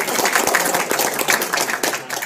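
Audience applause at an Indonesian talk on direct selling and MLM, a dense, steady burst of many hands clapping close by for about two seconds.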